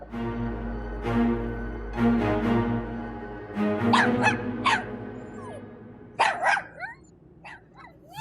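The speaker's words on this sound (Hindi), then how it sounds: "अब इस घर में कुत्ता भी आ गया" A dog barks several times at close range against a steady low background hum, with short sharp yelps bunched together toward the end.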